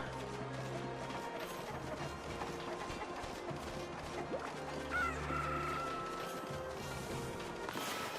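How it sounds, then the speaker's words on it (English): Chickens being fed in the video game Okami HD: clucking and crowing over a busy bed of in-game music and effects, with a bright chime partway through. "Now let's feed the chickens."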